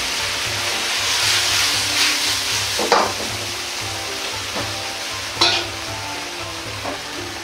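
Steady, loud sizzling of shrimp and tofu sauce in a hot pan, with occasional scrapes and clinks of stirring.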